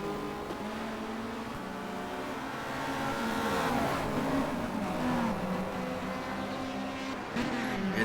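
Touring race cars from 1990 roaring around the Nordschleife, engines droning and rising as a Ferrari moves to overtake, steady and moderately loud with shifting engine pitch.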